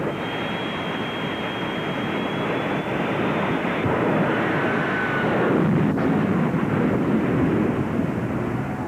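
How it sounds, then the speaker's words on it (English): A loud, sustained jet dragster engine roar at a 1987 drag racing event fills the whole stretch, a steady broadband blast with a thin high whine riding on top. "Let's talk about the jet cars."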